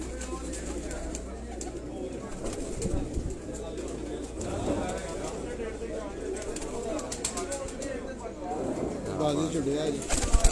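Shahzor pigeons coo steadily from a home loft, a continuous soft bird murmur running through the whole stretch with voices faintly in the background.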